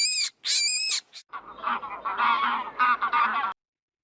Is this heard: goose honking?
yes